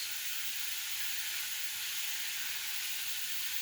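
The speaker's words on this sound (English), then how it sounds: "let that cabbage fry up a little bit" Steady, continuous sizzling hiss of cabbage frying in a pan, close and unbroken, with no talking.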